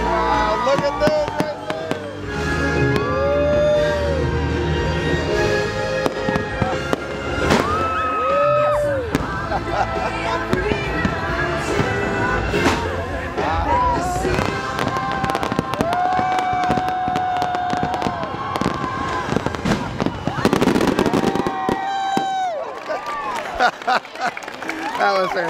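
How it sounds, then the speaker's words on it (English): A fireworks show at Mickey's Very Merry Christmas Party at Walt Disney World, with repeated booms and crackling bursts set against music, crowd noise, and people talking nearby. "you can see more of those fireworks"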